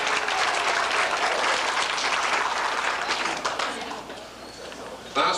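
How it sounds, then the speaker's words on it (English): Guests at a 1990 retirement party applaud steadily and fairly loudly, the clapping fading toward the end before a brief bump of sound. "And you can clap for yourselves."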